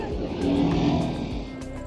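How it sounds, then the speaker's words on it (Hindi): Street traffic in Paris near the Eiffel Tower, a steady wash of car engines and passing vehicles for about two seconds, moderately loud and continuous with a swell in the middle. "यह है ट्रैफिक"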